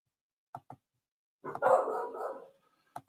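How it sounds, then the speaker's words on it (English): A dog barks a few times up close, two short yaps followed by a longer rough bark and another single bark, with no talking over it. "The dog's barking."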